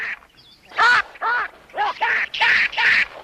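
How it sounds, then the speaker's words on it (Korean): A series of loud, nasal quacking cries, about five in an uneven rhythm, sound close and clear with no talking. "저 꽥꽥거리는 원숭이의 울음소리"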